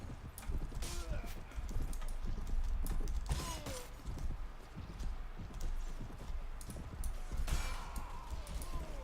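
Horse hooves clip-clop steadily in Mount & Blade: Warband, a brisk galloping rhythm with occasional whinnies, creaks and battle noise, while someone talks over the game sound.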